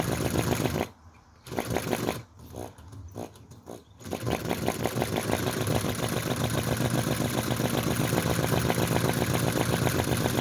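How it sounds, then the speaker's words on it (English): A model V-twin engine runs steadily, heated by flames, producing a fast, even mechanical chuffing; a few brief quieter gaps early on, then continuous near running for the rest. "So this engine will run quite happily for about a half an hour."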